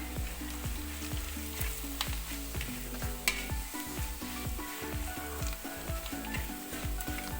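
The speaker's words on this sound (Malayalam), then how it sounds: "ലോ ഫ്ലെയിമിലിട്ട് വേണം മസാല മൂപ്പിച്ചെടുക്കാൻ" Masala with four spoons of coriander powder roasting in a pan on a low flame, a steady close sizzle with occasional stirring scrapes and faint clicks, no talking.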